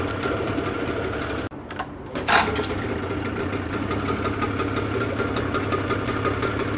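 Continuous rattling chug of a running Suzuki 9.9–15 hp outboard motor with exhaust venting from the outlet, close and steady, with a brief dropout and a short burst of hiss partway through.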